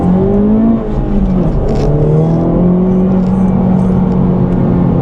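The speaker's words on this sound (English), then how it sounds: "And the car, as you can see from that launch," A Honda Civic Type R FL5 with a stage 1 tune launches and accelerates hard on the highway, its engine note climbing steadily through the gears, loud and close from inside the cabin with no talk.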